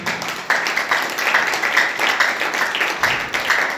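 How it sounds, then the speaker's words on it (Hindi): A church congregation claps together at a Hindi-language worship service, a dense, steady patter of many hands that stays loud and continuous throughout, with a few sharper accents rising out of the crowd. "एक बार आप अपने लिए ताली बजाइए।"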